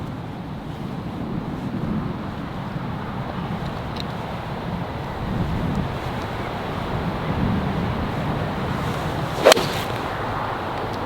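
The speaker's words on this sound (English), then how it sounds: "And the wind's not very strong." Steady wind blows across a golf course, a continuous broadband rush with slight gusting swells and one brief sharp click near the end, no voices.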